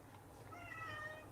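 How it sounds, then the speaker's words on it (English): A cat meows softly, a drawn-out cry rising briefly over a steady low background hum, fairly faint and a little distant. "Everyone hear Skittles meowing there?"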